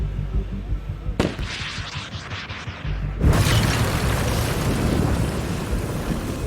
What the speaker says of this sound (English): You've just blown up the Louvre.